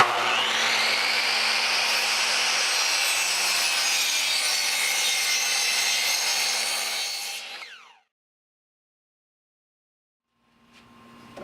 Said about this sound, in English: I'm going to cut these legs at 20 inches